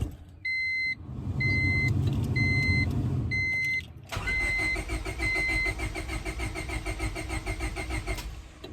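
A 2000 Honda Civic with a D16Y7 engine cranks steadily but fails to start, a loud rhythmic starter churn for about four seconds under repeating chime beeps, then a dashboard warning chime and buzz continue alone.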